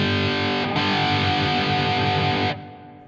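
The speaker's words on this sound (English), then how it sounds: "we're going to make a guitar solo tone" A sustained, heavily distorted electric guitar solo tone, made with a Two Notes Genome, rings out loud and steady for a couple of seconds, then cuts off abruptly.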